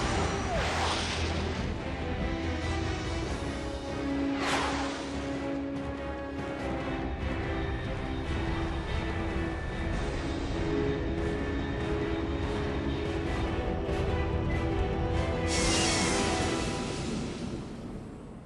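A very fast aircraft, flying faster than Mach 3, roars steadily through the Metal Gear Solid 3 video game, with a dense, continuous engine rush and swells of louder whooshing layered over game sound.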